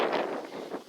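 Wind gusting outdoors beside a village church, a steady broadband rush with rising and falling surges close to the microphone, no voices present.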